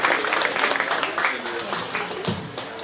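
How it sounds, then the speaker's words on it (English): Applause rises for exhibitors in a crossbred gilt division at a 4-H and FFA county fair swine show, a brief burst of scattered clapping from a modest crowd. "let's give all of our exhibitors in this crossbred gilt division a nice round of applause"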